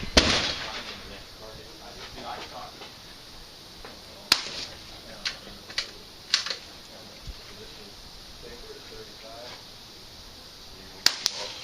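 Rifle shots at an NRL22 shooting match in Evansville, Indiana, heard as a few sharp, separated cracks from mid-distance against steady outdoor background noise, with a loud report near the start and another near the end.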